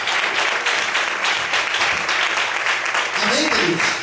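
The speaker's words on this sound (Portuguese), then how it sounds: "Mais fortes palmas." A church congregation claps loudly and steadily for a few seconds while a voice speaks over the applause.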